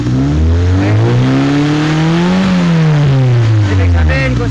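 A 1996 Honda VTi VTEC engine revs up and back down in one smooth swell, its tone climbing to a peak midway then easing off, loud and close throughout.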